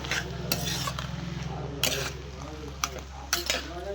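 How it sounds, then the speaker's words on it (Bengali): A spoon stirs vegetarian cabbage curry in a pan just after a teaspoon of ghee goes in, making repeated close scraping and knocking strokes over a steady low kitchen hum. "এর মধ্যে ঘি এক চা চামচের মতো দিয়ে ভালো করে নেড়ে"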